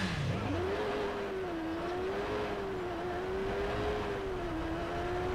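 A motorcycle engine in the video game Watch Dogs drones steadily and close, its pitch rising and dipping gently as the bike rides on, loud and alone with no talk.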